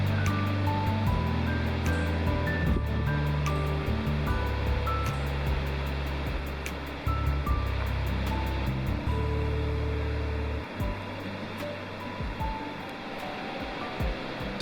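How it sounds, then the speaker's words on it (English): Middle Falls, a large waterfall at Letchworth State Park, gives off a continuous, loud, broadband rushing roar that holds steady throughout, with low rumbling underneath and no talking. "On the other side of the parking lot is the middle fall"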